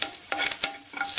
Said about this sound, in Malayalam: കടുക് പൊട്ടിക്കഴിഞ്ഞപ്പോൾ നമ്മൾ അതിലേക്ക് ചുവന്നുള്ളി ഇട്ട് പിന്നെ ഒരു 1-2 വറ്റൽമുളകും കൂടെ ചേർക്കാം.